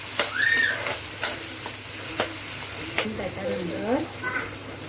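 Chopped onion frying in a pan gives a steady sizzle, broken by several sharp clacks of a utensil stirring, while a voice chatters briefly over the cooking.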